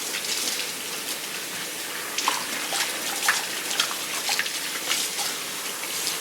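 Water runs steadily from a shower or tap as hair is rinsed out after a curl treatment, a continuous broadband splashing with small irregular spatters throughout and no talking.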